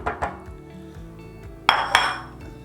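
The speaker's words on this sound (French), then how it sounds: "et je remue" A utensil scrapes and clinks against a pan while stirring a croquette mixture with ham and grated gruyère, two sharp metallic knocks near the end standing out over softer scraping.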